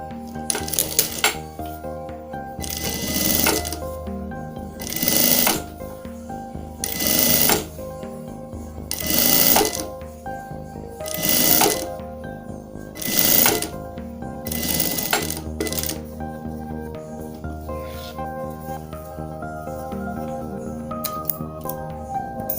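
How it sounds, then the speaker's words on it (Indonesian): A sewing machine stitches the edge of a wallet made from old jeans, running in about seven loud mechanical bursts with short pauses between them, then trailing off into quieter clicks. "Lalu kita jahit di bagian tepinya."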